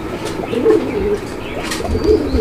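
A male pigeon coos repeatedly in low, throaty pulses, close by, with a bit of wing flutter and faint chirps in the background.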